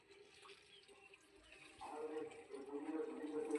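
Water is poured over the top of a potted garden plant, probably a Chinese hibiscus bush with buds, in a soft splashing, trickling stream that grows louder partway through and then keeps running.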